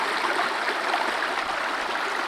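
Mountain river in the French Alps, with a steady broadband rush of flowing water, close and continuous and without voices.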